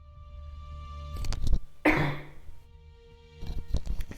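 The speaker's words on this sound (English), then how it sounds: "Excuse me for the cough." A man recovering from a cold coughs a few times, a short burst near the middle followed by throat-clearing rasps later, close and fairly loud against a quiet background with steady low electronic hum.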